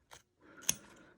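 Scissors make a quiet, close snip, then a short rustle and a sharp blade click as they cut fabric along a zigzag edge for a zippered bag.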